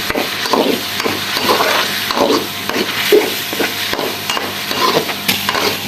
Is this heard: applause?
no